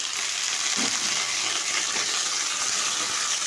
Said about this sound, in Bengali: উচ্ছেটাও কিন্তু সুন্দরভাবে ভেজে নেব